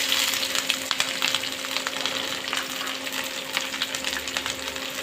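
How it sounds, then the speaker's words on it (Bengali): Chopped chilies and onions hit hot oil for a dried fish stew with beans and potatoes, producing a loud, crackling sizzle with rapid spitting pops over a faint steady hum. "তেল গরম হয়ে গেছে, কেটে রাখা মরিচ পেঁয়াজগুলো এর মধ্যে দিয়ে দিই।"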